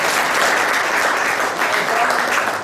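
A lecture hall audience at a felicitation ceremony breaks into sustained, fairly loud applause, a dense and even patter of many hands clapping with no break for almost three seconds.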